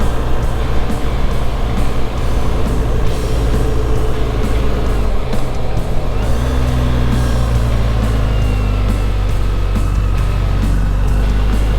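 A BMW GS motorcycle cruising around a Southland neighborhood on a Saturday morning, a loud, steady engine drone with heavy wind rumble, held close and constant throughout.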